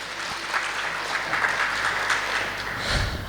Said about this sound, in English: Give a big round of applause to Naina as well.